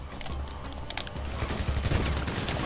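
A continuous rapid stream of automatic fire, like a minigun spinning and firing in Grand Theft Auto V, roars steadily and fairly close for the whole stretch with no talking.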